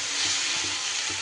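Okra with salt and turmeric fries in a pan, giving a loud continuous sizzle with soft stirring scrapes close by and no voices.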